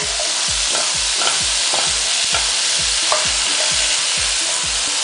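Sliced carrots and chopped courgette cook in a hot pan. A loud, constant sizzle runs throughout, with rhythmic stirring thumps and scrapes about twice a second, close by.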